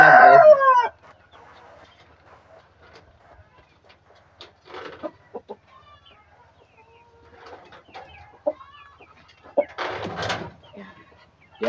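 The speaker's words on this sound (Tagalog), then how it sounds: "Ito yung ating Rhode Island Red na broodcock." A Rhode Island Red rooster kept in a backyard crows loudly and close at the start, then gives scattered soft clucks and brief calls, and ends on another loud crow.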